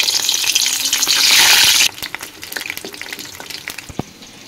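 Brinjal pieces frying in hot oil in a kadai make a loud, dense sizzle that swells for a couple of seconds and then drops sharply to a quieter crackle with scattered pops.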